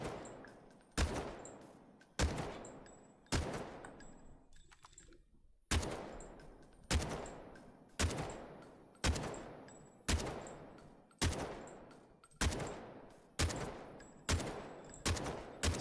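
Single gunshots on a Delta Force Hawk Ops firing range crack out about once a second, each sharp report trailing into a short decaying tail, with one brief pause partway through and no other sound.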